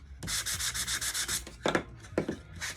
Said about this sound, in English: And I finally got this little sander at Walmart, a finger sander, and I love it.